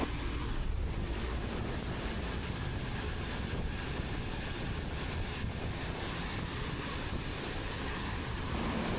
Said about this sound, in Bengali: বৃষ্টির সাউন্ড আর হাওয়ার ফিল আর বাইকের ইঞ্জিনের সাউন্ড সব মিলে একদম সিনেমেটিক একটা জার্নি হচ্ছে